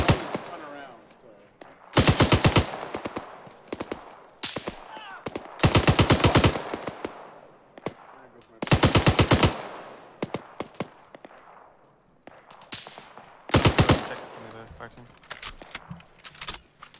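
Machine-gun suppressing fire in the video game Arma 3: four loud sustained bursts of automatic fire, each lasting under a second, separated by scattered single shots and voices talking in between.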